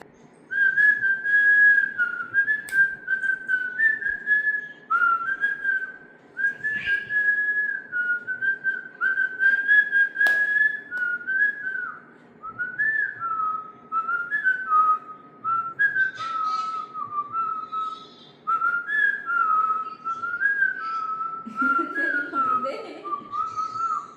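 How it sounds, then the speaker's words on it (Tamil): A person whistles a song tune for a guessing game, with clear, close melodic phrases broken by short pauses across the whole stretch and a faint murmur near the end. "நான் ஒரு பாட்டு விசில் அடிக்கிறேன்"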